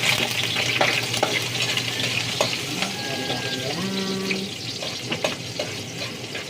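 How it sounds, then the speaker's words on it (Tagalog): Garlic sautés in a frying pan with a steady sizzle and occasional stirring clicks, while some brief tonal clatter from kitchen utensils rings partway through. "So, bigisa na tayo. Ayan. Ilalagay na natin yung ating bawang."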